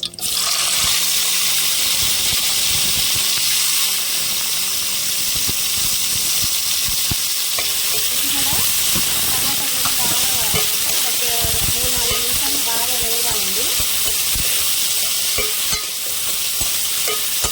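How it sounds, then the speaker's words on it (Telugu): Chicken pieces fry in oil in a pan for a chicken gravy curry, giving a steady, close hiss and sizzle throughout with occasional stirring clatter and a few soft voice sounds underneath. "మరీ కర్రీలా కాకుండా ఓన్లీ నూనెలో వేగాలి"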